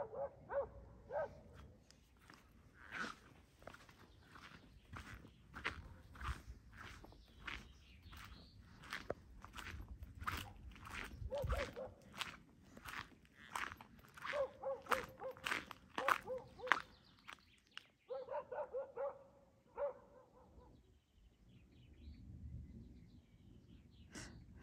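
Several dogs bark in scattered bursts over the sound of footsteps, with some whimpering, and the barks drop away near the end.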